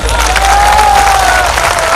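Loud clapping and crowd noise at a Narmada Jayanti devotional bhajan gathering, a thick continuous wash of hands with a sustained musical tone gliding over it.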